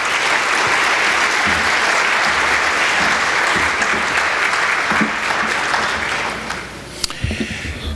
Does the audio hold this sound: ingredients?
no